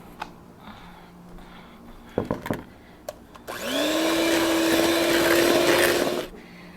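An electric hand mixer whirs steadily for a few seconds as it blends cake batter with vanilla and milk for a cherry cake, following a few light clicks and clatters, and no one speaks.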